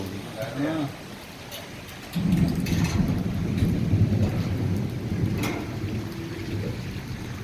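Steady rainfall in Makkah with a low rumble of thunder building midway, while people talk nearby.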